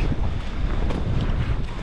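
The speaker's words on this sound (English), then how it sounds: "Wind is still picking up pretty good." Strong wind of about 24 mph buffeting the microphone in rough, continuous gusts at night on the New Jersey saltwater shore, with a low rumbling roar throughout.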